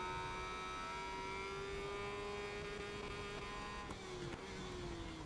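Superbike engine in the SBK 22 racing game, a faint, sustained high whine that holds steady, slowly rising in pitch, with a brief dip near the end.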